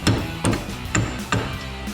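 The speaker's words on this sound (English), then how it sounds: "then hammer it the rest of the way" Four sharp metallic hammer strikes drive a brake pad pin through a caliper bracket on a 2008-2021 Dodge Challenger, evenly spaced and close, each ringing briefly before the next.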